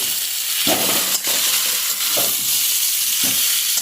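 Masala for a Bengali fish head curry made with katla fish head sizzles steadily in a hot pan, with a few louder stirring scrapes breaking through the constant frying hiss.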